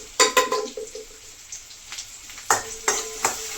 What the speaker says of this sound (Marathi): कांदा चांगला ट्रान्सपरंट होईपर्यंत आपण भाजून घेऊया, तळून घेऊया।